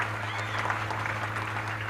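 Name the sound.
audience applauding at youth forum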